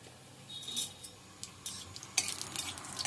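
Whole cumin seeds and dried red chillies frying in hot oil in a home kitchen give a faint, patchy sizzle with a few light stirring clinks, growing into brighter hissing bursts toward the end.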